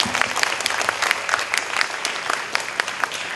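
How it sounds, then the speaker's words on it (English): Audience applause at the close of a talk and Q&A, a dense, even patter of many hands clapping at moderate volume for a few seconds with no voices. "Another big round of applause"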